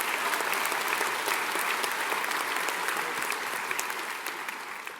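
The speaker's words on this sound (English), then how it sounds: "That's you clap." Sustained crowd applause rises from the graduation audience at the West Senior 2017 ceremony as the top student of the class is honoured. It is a dense, even roar of clapping that slowly tapers off.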